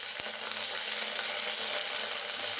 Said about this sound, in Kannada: ಈಗ ಶುಂಠಿ ಬೆಳ್ಳುಳ್ಳಿ ಪೇಸ್ಟ್ ಹಾಕ್ತಿದ್ದೀನಿ